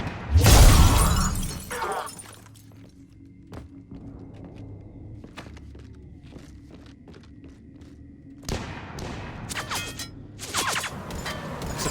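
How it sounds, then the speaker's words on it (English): Glass shatters in Mass Effect 3 with a loud crashing burst, then scattered tinkling shards and thuds, and another sharp run of breaking clatter near the end. "I'm surprised that shattered glass didn't kill her."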